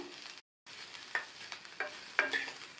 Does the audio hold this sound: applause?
no